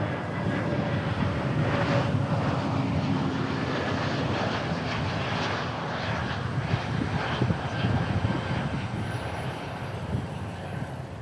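A jet aircraft arriving at DFW airport, one of several American Airlines and Envoy arrivals, rumbles with a steady broadband engine roar that swells and holds, moderately loud and fairly distant, with faint talk beneath.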